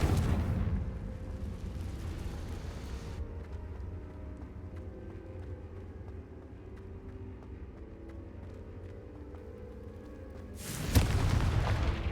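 A Confringo blasting spell in Hogwarts Legacy goes off as a loud booming burst, then a rumbling low tail lingers under quieter game ambience before another heavy blast hits near the end.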